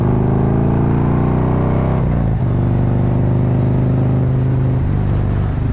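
A car drives steadily along a road, its engine droning loud and close from start to end with a brief dip in pitch partway through, heard from inside with no talking.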